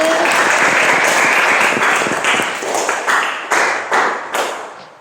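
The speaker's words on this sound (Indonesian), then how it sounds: "Tepuk tangan untuk Dani" Classroom clapping for a student called to the front, loud and close at first, then thinning into a few scattered claps and sharp taps that fade toward the end.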